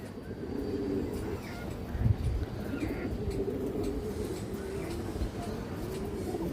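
Silver khaki pigeons coo in a low, steady murmur throughout, with soft repeated calls close by and a faint bump of handling noise partway through.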